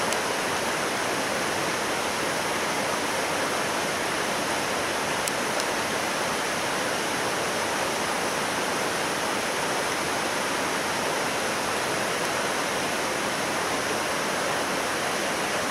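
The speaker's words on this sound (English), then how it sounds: "I assume we're going to the foot of that waterfall." A steady, loud roar of falling water fills the whole stretch, dense and unbroken, like standing close to a waterfall on Hawaii's Napali Coast.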